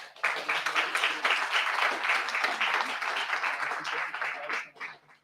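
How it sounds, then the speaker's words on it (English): Audience applause at a livestreamed startup pitch event, a dense wash of clapping that holds steady for about five seconds before thinning out and stopping, with crowd noise mixed in. "So big applause to our organizers there."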